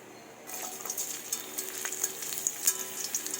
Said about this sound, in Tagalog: Igisa natin ang ating bawang.